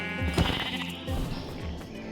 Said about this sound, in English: Oh, yep, here's a sheep right here.